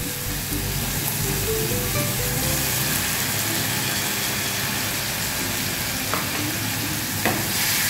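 Tomato paste frying in a pan for a Bengali chutney, giving a steady, close sizzle with light stirring scrapes throughout and no talking.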